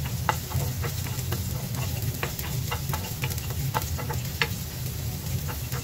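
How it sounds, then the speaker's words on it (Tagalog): Chopped onion and garlic sautéing in hot oil in a pan for a squash and pechay dish, a steady close sizzle with frequent small clicks of stirring throughout. "igigisa na po natin yung ating sibuyas at bawang"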